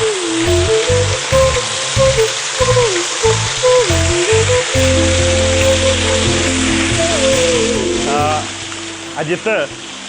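Steady broadband rushing of flowing water fills the scene throughout, loud and continuous, with someone talking over it for most of the time.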